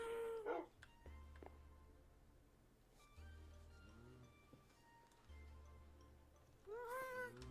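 A Minecraft dog makes short, faint whimpers and yelps in a quiet game scene with low background music.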